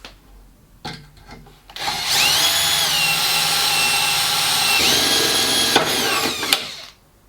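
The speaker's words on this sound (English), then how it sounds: "I'm going to drill out the rivets" A power drill bores out rivets on a campervan step fitting, starting with short bursts, then a long, steady, high-pitched whine that dips partway through and cuts off near the end, loud and close.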